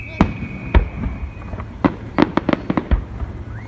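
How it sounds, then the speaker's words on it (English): Fourth of July fireworks show in Palm Springs: a string of sharp pops and cracks, some single and some in quick clusters, with a whistling tone early on and voices reacting between the bursts. "And that's just a regular firework."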